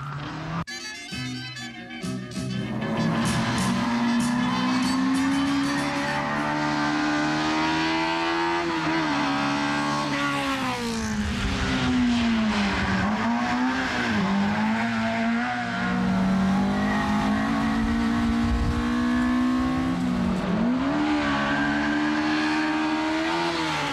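Fiat 124 race car engines at a hill climb race roar and rev continuously, pitch rising and falling as the cars accelerate and shift gears, loud and close throughout.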